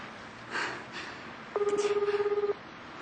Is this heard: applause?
no